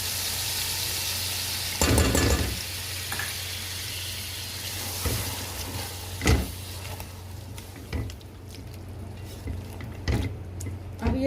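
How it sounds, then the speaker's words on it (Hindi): Green chili, ginger and onion fry gently over low heat, giving a steady soft sizzle broken by several sharp clanks of a utensil against the pan. "अब हम इस सब चीज़ों को हल्के से आंच में भून लेंगे"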